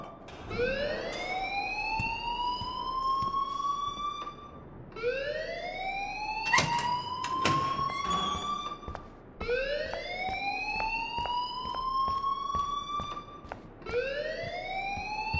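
Life is Strange alarm ringing, a loud siren-like tone rising again and again in long repeated sweeps, steady and unbroken across the whole stretch with no talk.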